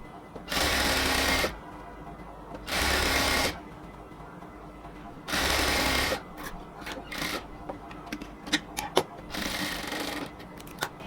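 A sewing machine stitches lace onto a cotton kameez in three steady bursts of about a second each, then runs in short, choppy spurts with clicks and handling noises in the pauses.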